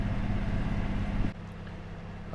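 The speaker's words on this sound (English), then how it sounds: "We're just running on the port engine at the moment." Steady low engine drone of a sailing catamaran, which drops abruptly to a quieter, lighter hum partway through as it runs on the port engine alone.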